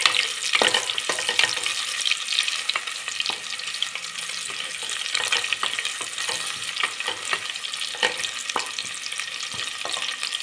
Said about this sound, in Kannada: ಈರುಳ್ಳಿ ಸಾಫ್ಟ್ ಆಗೋದು ಫ್ರೈ ಮಾಡ್ಕೊಳ್ಳೋಣ.